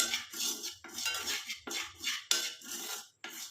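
A spoon mixes henna and avaram powder in a bowl, making close, rhythmic scraping strokes against the sides in steady repeated passes with brief pauses between them.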